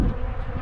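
Angry bees buzz around an apiary hive, a close, steady drone with a low hum that wavers slightly in pitch over a brief moment, with no voices.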